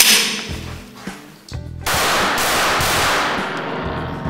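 A Taurus TX22 .22 pistol fired with 40-grain ammunition, a few sharp cracks early on, then a sustained loud noisy burst of reports close by, with no talk over it.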